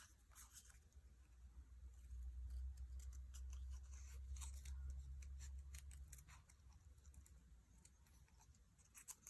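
Scissors snip through paper in quick, faint clusters of crisp cuts, close by, with pauses between bursts and a low background hum, and no voices.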